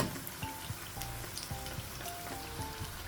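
Samosas fry in hot oil, turned over to cook on all sides, making a steady close crackling sizzle with scattered pops, heard alone.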